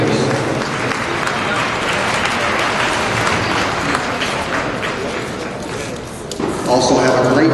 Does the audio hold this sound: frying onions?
no